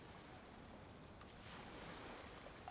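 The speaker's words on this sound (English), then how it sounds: "Oh, and the sound of the waves." Gentle ocean waves wash steadily at Liyue Harbor in the Genshin Impact video game, a soft continuous surf with a light wind-like hiss and no talking.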